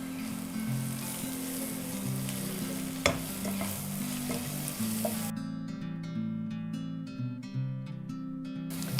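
Coriander powder stirred into frying Kerala-style chicken curry in a pan, a steady sizzle with spoon scrapes, then sharp rhythmic clinks of the spoon against the pan toward the end.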